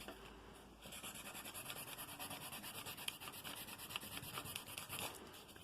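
Pencil rubbed back and forth over paper laid on a piece of styrofoam, a steady close scratchy rasp in quick rhythmic strokes lasting throughout, with no voices.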